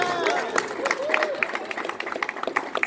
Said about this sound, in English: Now give him a round of applause.